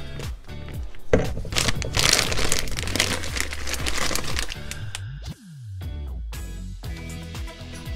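A plastic piping bag filled with tiramisu cream mix crinkles and rustles as it is handled and squeezed, in a continuous close-up crackle with a brief pause partway through.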